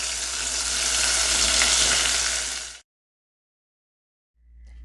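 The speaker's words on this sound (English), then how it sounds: "I'm gonna drop the rest of these into the pot, fry them out" Cracked conch pieces frying in a pot of oil, a loud steady crackling sizzle for a few seconds that cuts out, then resumes faintly near the end.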